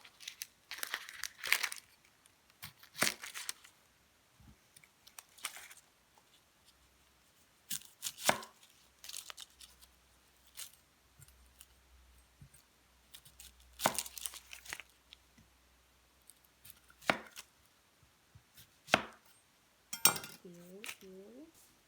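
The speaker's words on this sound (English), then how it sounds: "first I will start cutting onions." Knife chopping onions on a cutting board for Japanese curry, with scattered sharp single cuts and short bursts of chopping spaced across the clip, plus light crinkling and a brief faint voice near the end.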